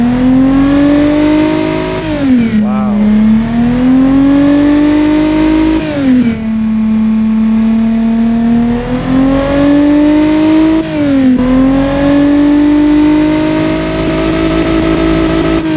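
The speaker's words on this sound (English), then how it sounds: "Sounds very loud at high RPM" A 90-degree V engine in the Automation car game revs loudly at high RPM, rising and falling through several throttle blips and holding a sustained roar in between. No one speaks.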